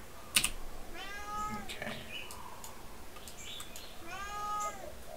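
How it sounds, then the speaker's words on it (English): A pet cat meows twice, close by, long rising-falling calls over steady keyboard typing and faint room hum, with a brief spoken word near the start. "My cat wants to say hi."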